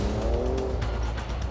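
Ford F-150 Raptor pick-up truck with 444 bhp sliding around, tires squealing in a rising, wavering whine over the engine's rumble, close and loud, with no voices.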